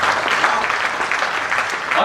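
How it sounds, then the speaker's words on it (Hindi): An audience at a Hindi comedy-poetry show claps loudly, a thick continuous burst of applause that stays strong for the whole moment, with faint voices mixed in. "जोरदार ताली बजाओ जरा एक बार।"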